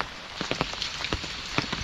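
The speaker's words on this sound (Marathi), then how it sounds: "पाऊस पण रात्रीपासून भरपूरच लागता. आता पण लागता." Steady rain patters on a surface, with scattered sharper drops tapping irregularly over the soft wash.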